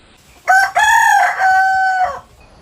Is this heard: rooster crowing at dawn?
yes